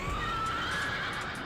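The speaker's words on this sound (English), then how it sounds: "my racial horse is a dead horse" An undead horse mount in the World of Warcraft video game neighs in one loud, drawn-out whinny that fills the whole moment.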